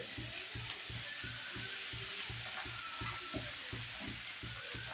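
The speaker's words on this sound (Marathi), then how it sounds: "थोडं परतून घेऊ, त्याला खालीवर करून घेऊ. हे पहा आता टाकू पोहे." Poha being sautéed and stirred in a pan, a soft steady sizzle under a regular beat of a spatula scraping and turning, close and fairly quiet.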